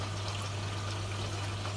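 A Bauknecht washing machine on a test run with its rear panel open, water flowing and pouring steadily inside, with a constant low hum beneath the close, even rush.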